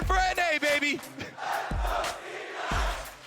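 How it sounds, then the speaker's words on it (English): Crowd at a League of Legends World Championship group-stage match, T1 versus Cloud9, roars and cheers loudly throughout, with a few sharp shouts rising above the sustained noise. "The crowd is popping off."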